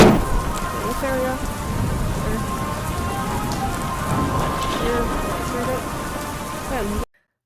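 Steady heavy rain pours outside during an incoming storm, a dense hiss of drops on surfaces with low thunder rumbling beneath, continuous and fairly loud until it cuts off abruptly.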